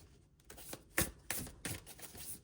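Tarot cards being shuffled by hand in a quiet room: a few soft riffling bursts and slaps spaced about half a second apart, close and faint, with no talking.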